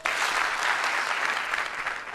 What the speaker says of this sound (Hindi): जब भी मैं हेलो बोलूंगा आप एक बार ताली बजाएंगे